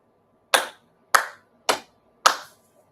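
Four sincere hand claps in a Konko Kyo Sunday service prayer, sharp and evenly spaced, each ringing briefly in a quiet room.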